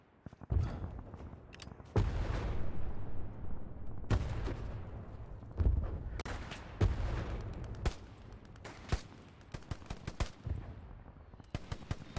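Gunfire and explosions from a Hell Let Loose match on the Hill 400 map, with heavy booming impacts and rapid crackling shots scattered throughout, loud and continuous.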